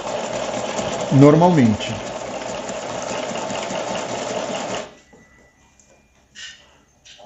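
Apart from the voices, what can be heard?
domestic sewing machine stitching stretched knit fabric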